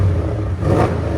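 Twin-turbo 4.0-liter V8 exhaust on a 2013 Audi S6 with the muffler deleted, a loud, steady deep rumble throughout with a slight swell in revs partway, no talking.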